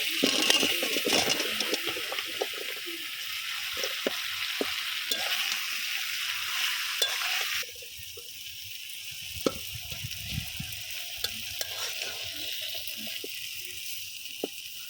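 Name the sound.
bottle gourd added to frying spices in pan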